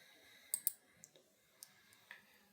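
Computer mouse clicking to open the inspect tool in a web browser: a few light, close clicks spaced irregularly over a faint background hiss.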